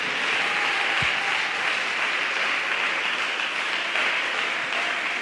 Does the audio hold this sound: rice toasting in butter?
no